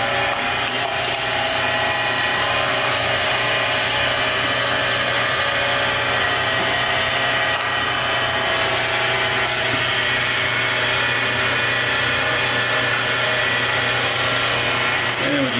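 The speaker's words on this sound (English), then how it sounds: "the longer the meat stays in the grinder, it does actually raise the temperature of the beef" A meat grinder churns beef for homemade pepperoni in a continuous loud mechanical drone, steady motor whine and grinding rattle with no pauses.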